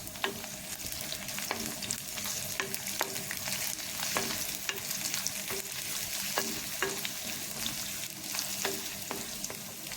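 Onion, ginger and garlic fry in a pan with a steady, fairly loud sizzle, punctuated by regular spatula scrapes and clicks as the mixture is stirred.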